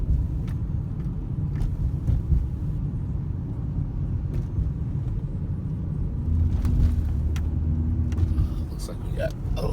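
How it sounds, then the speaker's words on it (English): A 2013 Ford Edge exhaust heard from inside the cab gives a low, steady engine rumble that swells as the vehicle revs up to speed, with road noise and a few faint clicks. "I should be able to get a nice rev up to speed, and you'll be able to hear the inside of the cab."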